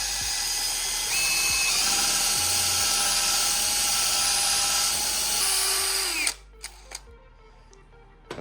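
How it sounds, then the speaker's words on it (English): A power drill spinning a nylon internal cleaning brush, a loud steady high whine with slight pitch shifts for about six seconds, then cutting off abruptly into a few faint clicks. "you just start that drill a little bit and it'll go right in"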